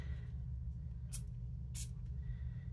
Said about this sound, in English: we're going to spritz this a little bit